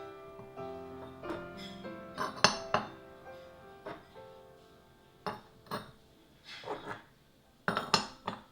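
A ceramic stacking paint palette clinks and clatters as its pieces are handled, with a series of bright, ringing knocks in irregular clusters, some sharp and close, others lighter.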